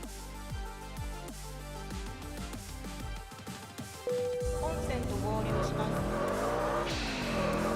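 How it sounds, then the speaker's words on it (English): Porsche turbo engine in the Wangan Midnight racing game, revving and accelerating with gear changes, whooshing turbo releases and tire squeal, loud and steady throughout. "I love the blow-off valve sound on the turbo on the Porsche."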